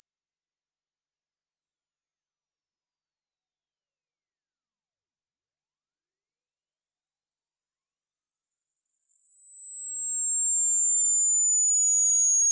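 A pure sine tone for a hearing test starts very high and glides slowly downward across twelve seconds. It holds smooth and steady, alone, with no other sound.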